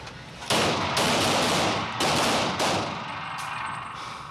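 Police recruits fire handguns drawn from the holster on an outdoor shooting range, a series of sharp, loud reports at uneven intervals, each cracking shot followed by a short echoing decay.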